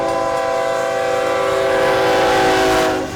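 A train passes a railroad crossing, its horn blaring in a loud, sustained multi-tone chord over rumbling wheels, steady and close, swelling slightly before easing off at the end.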